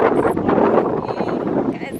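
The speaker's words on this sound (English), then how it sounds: "So windy, guys." Rumbling wind buffets the microphone in steady gusts, loud and close, with voices talking over it, in Cape Town.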